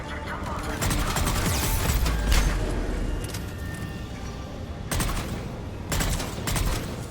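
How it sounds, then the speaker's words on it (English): Grenade explosion in the Mass Effect 3 video game, a booming blast around the two-second mark set amid continuous loud gunfire and combat noise, with further sharp bursts later. "he just threw a grenade on himself"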